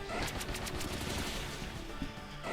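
A Pin Missile attack in Pokémon Scarlet plays as a dense, continuous rattling barrage of rapid hits, steady and fairly quiet throughout with no talking.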